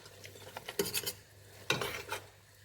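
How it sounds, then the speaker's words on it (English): Stirring a thick Nigerian okra soup with crayfish in a pot, heard as two short bursts of scraping and clinking as the spoon works the pot, close and fairly quiet, with no talk. "Stir very well."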